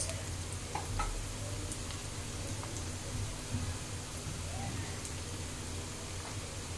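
Ingredients for paneer butter masala fry and brown in a pan with a close, continuous, even sizzle and faint stirring.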